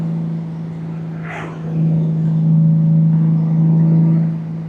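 A Honda Goldwing motorcycle cruising in 4th gear at about 3,500 RPM and 60 mph, with a steady low engine hum and wind rush that swells slightly midway.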